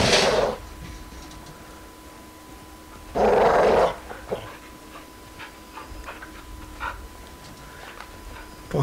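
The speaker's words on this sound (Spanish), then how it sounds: "¿Dónde se fue este perro?" A dog growls and snarls in Call of Duty: Modern Warfare 2, with two loud, close bursts of growling separated by quieter ambient game sounds and faint scattered clicks.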